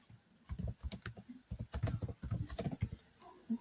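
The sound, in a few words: typing on a computer keyboard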